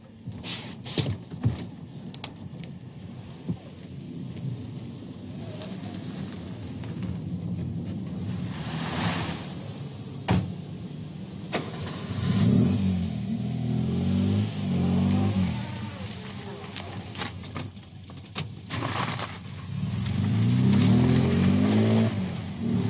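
A car pulls away on a street in a 1985 French crime drama, its engine revving and swelling in two louder surges as it drives off, with faint background noise and no talking.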